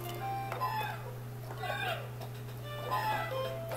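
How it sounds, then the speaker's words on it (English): A children's electronic animal toy sounds a chirpy, squawking animal call in several short bursts over a steady electrical hum, moderately loud and close, with no talking. "It's supposed to be a giraffe sound."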